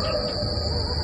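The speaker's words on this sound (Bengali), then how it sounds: "ঝিঝি পোকার ডাক, কুকুরের হইচই যেন আরো ভাবিয়ে তুলছে পুরো জঙ্গলটাকে।" Crickets chirp at night in a cartoon animation, a continuous high-pitched trill with a low rumble beneath, fairly loud and with no voices.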